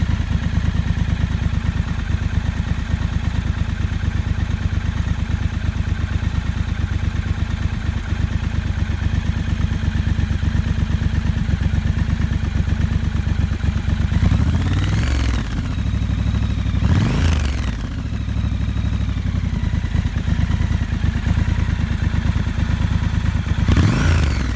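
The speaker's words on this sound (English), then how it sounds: "Today I'm on the Triumph Scrambler 1200 XE." A Triumph Scrambler 1200 XE motorcycle engine runs steadily and close by with a constant low rumble, with a few brief swells in revving near the middle and at the end.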